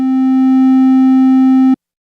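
Steady pure test tone boosted by 6 decibels, one sustained bright pitch with rich overtones, loud and constant, stopping abruptly after nearly two seconds, alone without talk.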